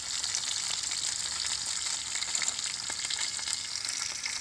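Tilapia fish deep-frying in a pan, giving a steady, dense sizzle and crackle of hot oil that runs throughout without pause, close and fairly loud.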